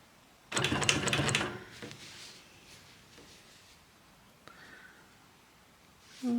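A sewing machine quilts with a Squiggy ruler in a rapid, close, rattling burst of needle strokes lasting about a second. Quieter shuffling and handling sounds follow as fabric and ruler are repositioned, then a brief clatter comes at the end.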